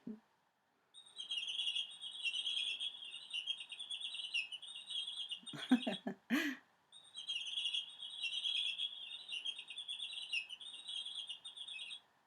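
Busy high-pitched chirping from sparrows, nearly continuous, broken midway by a brief rustle and clatter before the twittering resumes.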